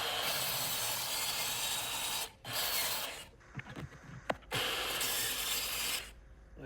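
Someone cuts unfamiliar taped-up material by hand with a handsaw, a harsh, steady rasping in long strokes that stops briefly, gives way to a few knocks and scrapes, then starts again.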